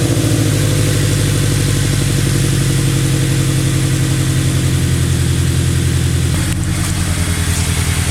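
A Toyota 86 fitted with a Greddy Revolution RS exhaust idles after start-up, a loud close, steady rumbling pulse that dips slightly in level near the end.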